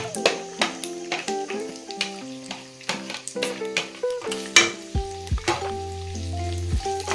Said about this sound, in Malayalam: ഇട്ട് നമുക്ക് ഒന്ന് ഇളക്കി ഒന്ന് വഴറ്റിയെടുക്കാം.